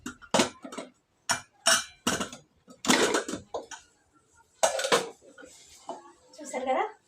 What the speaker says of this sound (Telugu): నేను మూత కూడా తీసేస్తా.